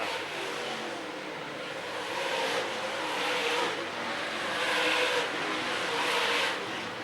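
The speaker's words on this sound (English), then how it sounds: "Canta continues to drive away from Matthews and Pratt now" Dirt track race cars running in a heat race, engines roaring and swelling as cars pass on the track, a steady loud motor drone with rising surges, heard at moderate distance.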